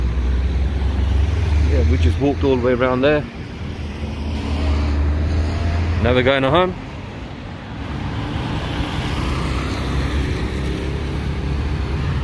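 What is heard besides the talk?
street traffic on Las Americas, Xela, Guatemala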